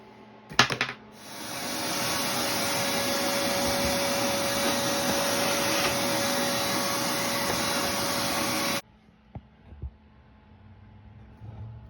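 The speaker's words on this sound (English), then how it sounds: "Now I'm going to try to vacuum some of that dust up." After a couple of clicks, a vacuum cleaner switches on and whines loudly and steadily for several seconds while sucking dust from a dryer vent elbow, then cuts off, leaving small knocks.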